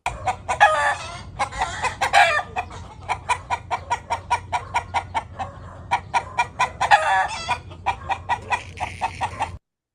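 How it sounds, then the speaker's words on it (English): Chickens on a Los Angeles sidewalk cluck nearby in a steady run of short, rhythmic clucks, with a few louder, longer squawking calls mixed in. "These chickens are just out on the sidewalk?"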